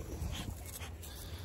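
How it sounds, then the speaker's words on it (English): An American bully dog gives a faint whimper, a brief quiet whine over low background rumble. "We got the dogs out."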